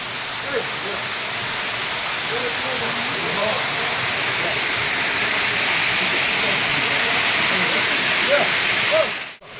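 Chawal Bhaja waterfall plunging from about 200 feet, a steady broad roaring rush of water close by, continuous and loud, heard while crossing a footbridge, with faint voices underneath and a brief cut at the end.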